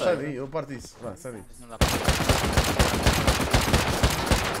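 During a video game raid on a clan's base, rapid bursts of gunfire erupt and keep going in dense volleys, right after excited voices talk in Portuguese.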